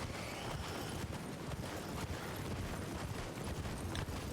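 Horse galloping under a rider in Elden Ring, a steady rapid run of hoofbeats over a dense, noisy background of game sound, fairly faint throughout.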